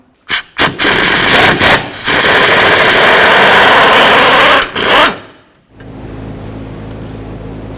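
A power tool loosens the rear wheel bearing mounting bolts on a 2007-12 Volvo S40. Two short, loud bursts are followed by two long whirring runs, then the tool cuts out to a quiet background.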